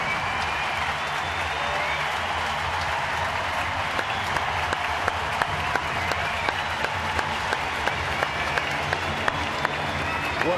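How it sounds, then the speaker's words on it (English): A stadium crowd at a baseball game gives a long, sustained ovation, dense applause and cheering roaring on steadily with no break. "he got a really nice long ovation"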